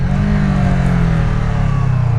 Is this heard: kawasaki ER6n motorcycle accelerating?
yes